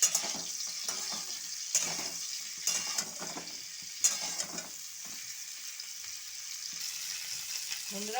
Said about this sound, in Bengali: ফুলকপিগুলো ভাজা হয়ে গেছে, আমি এবার তুলে নেব।